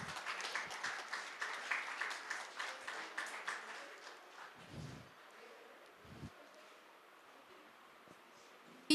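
Audience clapping at a piano school function, a lively patter of many hands that is moderately loud for the first four seconds, then fades out into quiet room noise with a couple of soft thumps.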